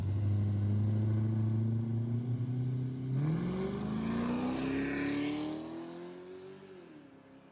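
A budget drag-build car with factory diff gears accelerating in a 0 to 100 run, engine pitch climbing steadily, dipping at a gear change, then rising again before easing off as it fades.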